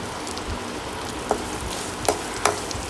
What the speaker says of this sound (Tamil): இது நல்லா வதங்கணும் நல்லா வதங்கணுன்னு நல்லா வதங்கி வரட்டும்